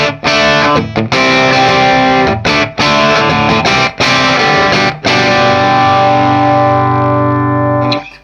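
An electric guitar through a Marshall 1987x tube amp head plays lightly distorted chords, loud and sustained, with brief gaps between strums and a long ringing final chord.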